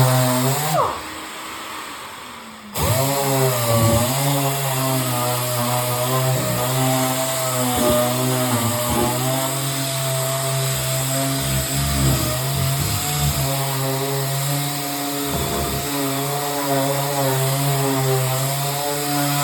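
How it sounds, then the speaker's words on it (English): A power sander with 180 grit sandpaper works over a Journey arcade cabinet, a loud, steady motor whine that holds its pitch throughout after a brief dip near the start. "I'm going to switch to 180 grit sandpaper, a little finer."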